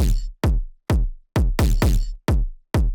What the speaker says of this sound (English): That's how you make the distorted kick.